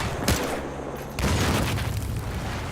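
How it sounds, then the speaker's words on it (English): Explosions in the video game Battlefield Hardline during an esports final, two heavy booming blasts close together, the second rolling into a long rumbling roar. "Yes, explosives, Michael Bay, explosions"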